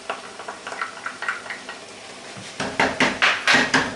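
A spoon stirs fish sauce with tomato concentrate and mustard in a pan, soft scraping strokes at first, then louder, wetter rhythmic sweeps with light clatter against the pan in the second half.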